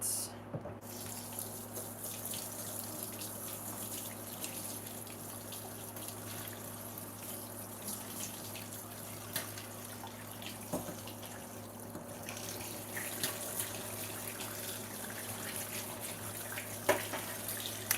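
A kitchen faucet runs steadily as rice is rinsed under it for dinner before going into a rice cooker, a continuous close splashing hiss with small shifts in the flow and no talk.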